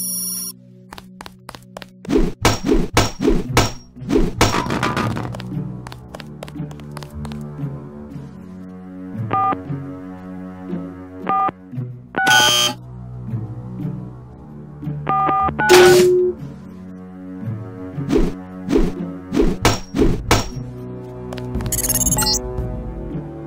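Keypad presses in Deus Ex sound as a series of short electronic beep tones, some single and some in quick runs, with irregular gaps and thuds between them over ambient game background.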